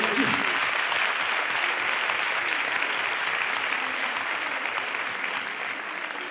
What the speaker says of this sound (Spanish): Un aplauso para todas.